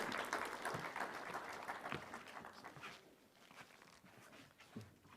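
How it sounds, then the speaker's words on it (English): Audience at a World Health Summit valedictory ceremony applauding to welcome a minister, a burst of clapping that tapers off after a few seconds into quieter room noise. "A big round of applause"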